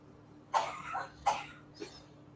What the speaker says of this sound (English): Somebody's coughing.